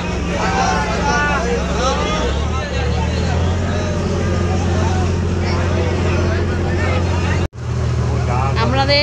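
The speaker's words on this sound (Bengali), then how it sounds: "আমাদের ভ্যাসেলটা এখন স্টার্ট দিয়েছে। এখন আমাদের ভ্যাসেল অলরেডি রানিং।" A passenger vessel carrying festival crowds toward Ganga Sagar for the Ganga Sagar Mela, its engine droning steadily and loudly beneath constant chatter and babble of people on board, with a brief cutout near the end.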